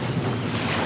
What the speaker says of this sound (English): you need to get on the speedboat